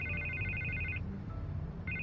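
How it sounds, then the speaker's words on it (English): A telephone rings in the Batman Telltale Series video game on PS4, an electronic ringtone tone that sounds for about a second, pauses, then starts again over a steady low background hum. "I can't get the phone to stop ringing."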